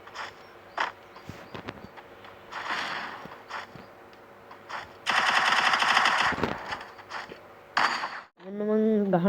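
Gunfire in a video game, bursts of rapid automatic shots and single reports scattered through the scene, with footstep sounds and a voice briefly heard toward the end.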